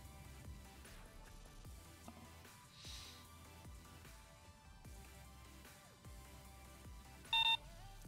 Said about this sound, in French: Bip.